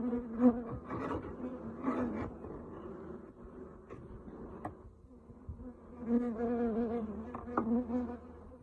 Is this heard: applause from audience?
no